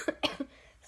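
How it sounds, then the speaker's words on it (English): A few quick, dry coughs in a short burst, close and fairly soft. "Still coughing away."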